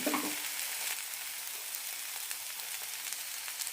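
Grated coconut sizzles steadily in a hot pan with half-cooked carrots for a carrot chutney, a close, continuous crackling fry with light stirring scrapes.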